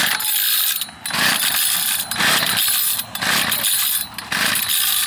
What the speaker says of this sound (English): This is a cold start. Got the choke on. Now we're going to pull a string.